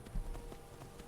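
Horse hooves clip-clop in a quick rhythmic series of soft thuds in the video game Skyrim, played on PS5, moderately close and without talk.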